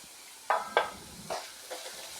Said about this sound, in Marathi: तर बटाटा आपला छान परतत आलेला आहे।